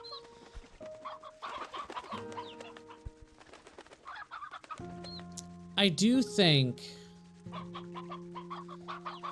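Hens cluck in a coop in the video game Slime Rancher 2, with short bursts of clucking and a louder squawking flurry midway, heard under intermittent talk and game music.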